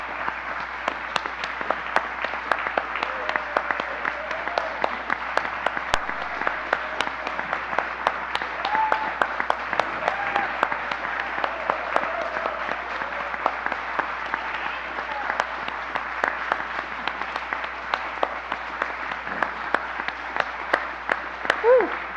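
A church congregation applauds its jazz musicians at a summer jazz service, steady dense clapping filling the room for the whole stretch, even and sustained without letup.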